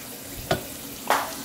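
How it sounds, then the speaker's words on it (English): Food sizzles steadily in hot oil, with two brief louder hisses as something is stirred or added; no talking. "This is the last batch, frying in the oil."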